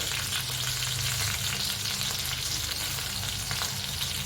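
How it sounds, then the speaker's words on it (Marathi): Okra pieces fry in hot oil at home for a masala bhindi dish, giving a steady, dense sizzle with light crackling that stays close and even throughout, no voices. "असे सगळे भेंडे टाकायचे आणि मस्त आता ही ह्या तेलामध्ये अशी फ्राय करून घ्यायची"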